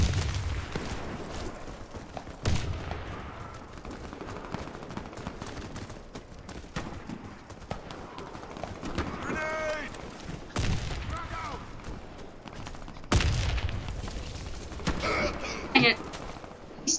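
Sniper rifle fire and scattered gunshots in the Warface shooter game, with sharp cracks at irregular moments, heaviest near the start and toward the end, over steady game noise and occasional talk.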